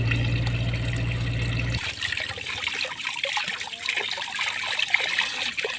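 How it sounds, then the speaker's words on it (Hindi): Cold running water pours over raw chicken being washed outdoors in Kashmir. A steady trickle and splash sit close by, with a low pumping hum at first that gives way to looser dribbling. "अच्छे तरीके से ऐसे आपने चिकन को वॉश करना है।"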